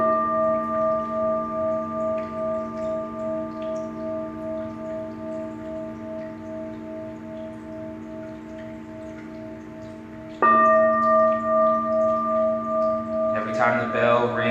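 A meditation bell is struck twice, a long pause between the strikes. Each clear, pure tone hangs and slowly fades with a gentle pulsing shimmer in a quiet room.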